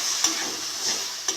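Spice paste with tomato and water being stir-fried for a potato and pointed gourd curry, a steady close sizzle with a few louder scrapes of the spoon at regular intervals, no voices.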